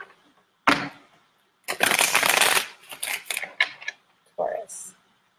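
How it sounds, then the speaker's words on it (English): Tarot cards are shuffled by hand in a few separate bursts: a quick riffle, a longer rapid flutter, then shorter papery snaps and taps, close and crisp, with brief soft talk between them. "Let me just do a little shuffle."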